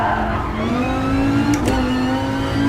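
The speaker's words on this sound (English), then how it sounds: "the rev limiter sounds super cool" A race car engine in Gran Turismo Sport drones at high, steady revs against the rev limiter, a buzzing held tone with a brief stutter in the middle, loud and close.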